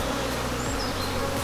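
Honey bees in a nuc box during transfer to a full-size hive, a dense continuous buzzing hum that stays loud and even throughout the brief moment.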